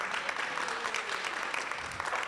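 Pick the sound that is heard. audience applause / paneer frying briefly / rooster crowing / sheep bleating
audience applause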